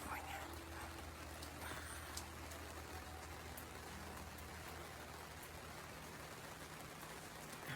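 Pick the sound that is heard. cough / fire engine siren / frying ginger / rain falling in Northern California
rain falling in Northern California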